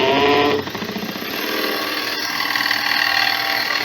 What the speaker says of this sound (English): You can drill this.